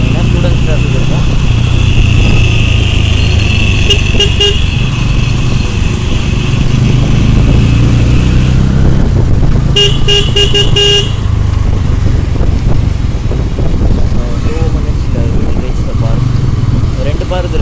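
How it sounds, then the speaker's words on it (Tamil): Busy city road traffic with passing cars and motorcycles, continuous and fairly loud, with brief horn toots partway through and people talking over it. "ரோடும் பார்த்தீங்கன்னா ரொம்ப டிராஃபிக்காக தான் இருக்கும். எப்போவுமே டிராஃபிக்காக தான் இருக்கும்."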